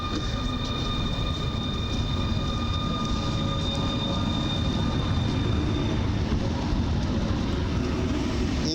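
An EU160 electric locomotive pulls away from a platform at Warszawa Zachodnia station, a steady rumble of wheels and traction motors with faint high tonal whines, moderately close and continuous.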